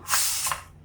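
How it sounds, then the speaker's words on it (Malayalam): Leftover steam escapes from a pressure cooker as its lid is opened, a short, close hissing rush with two brief puffs, fading out after under a second. "നമ്മുടെ കുക്കറൊന്ന് തുറന്നു നോക്കാം"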